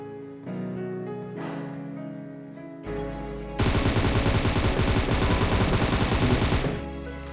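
Gunfire in the mobile battle-royale game PUBG Mobile comes as a dense burst of rapid automatic shots, loud and steady for about three seconds, after quieter game sounds, with no talk.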